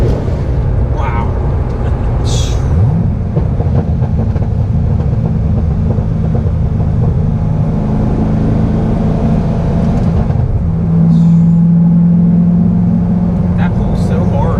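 A naturally aspirated car accelerates hard, its steady loud engine drone building and holding close by, with brief excited voices over it.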